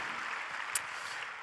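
A church congregation claps at an international assembly and mission conference, a brief, even patter of applause with one sharp click partway through, heard alone without voices.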